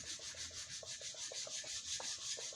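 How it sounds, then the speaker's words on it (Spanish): Sandpaper rubs over a marquetry wood panel before varnishing, quick rhythmic back-and-forth strokes with an even scratchy hiss, close and quiet, with no voices. "Ahora hay que quitar posibles con la lija"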